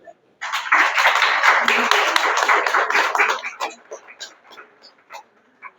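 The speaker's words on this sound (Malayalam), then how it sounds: "അപ്പൊ യദുവിന് ഒരു നിറഞ്ഞ കയ്യടി." Audience clapping at a school award ceremony for a student, a dense burst of applause for about three seconds that thins into scattered claps and fades out.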